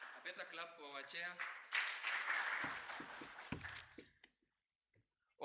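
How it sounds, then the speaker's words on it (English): An audience at the Baringo County Governor's roundtable meeting claps for the chair, a burst of broadband clapping under and after a speaking voice, then fading to silence. "better clap for our chair"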